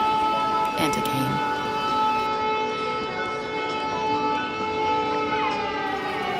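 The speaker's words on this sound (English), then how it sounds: "sirens started again, and again, and again." Air raid sirens wailing over Lviv, Ukraine during wartime, a steady sustained tone with harmonics holding throughout, distant and continuous with faint street background.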